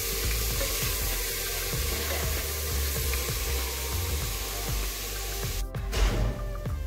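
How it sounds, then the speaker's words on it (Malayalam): Onions for Kerala chicken curry sauté in a hot pan, a constant close sizzle and crackle with repeated scraping stir strokes throughout. "സവാളയൊക്കെ നല്ലപോലെ വഴന്ന് വന്നിട്ടുണ്ട്"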